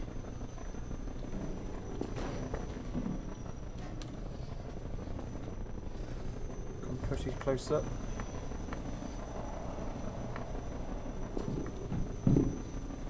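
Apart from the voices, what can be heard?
helicopter attacking, from the video game Half-Life 2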